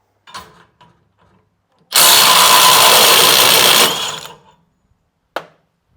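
A Ridgid impact driver breaks a fastener free in a test against Milwaukee. One loud, close burst of rapid hammering lasts about two seconds, with a few faint clicks before it and a sharp tap after.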